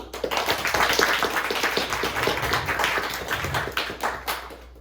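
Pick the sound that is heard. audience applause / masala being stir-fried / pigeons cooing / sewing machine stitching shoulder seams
audience applause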